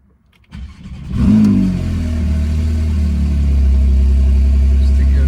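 A Porsche 911 GTS sports car fires up: a brief starter crank, then a loud flare of revs that settles into a deep, steady idle, close and strong.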